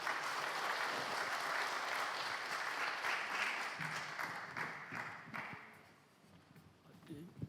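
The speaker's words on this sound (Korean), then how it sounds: "박수로 환영해 주십시오." An audience at a senior missions conference welcomes a guest pastor with sustained applause, a dense wash of clapping that holds steady, then thins and fades toward the end as a few scattered claps linger.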